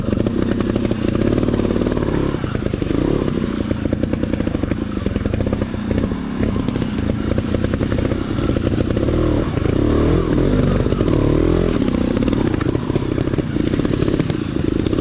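An off-road motorcycle rides a rocky trail at Pedra Grande, Igarapé, its engine a loud, constant close-up drone with steady clattering and scraping from the terrain and no voices.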